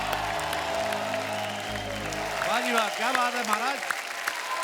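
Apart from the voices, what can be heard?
studio audience applause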